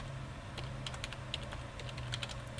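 Typing on a computer keyboard, a quick, uneven patter of key clicks close by and fairly quiet, with short pauses between bursts.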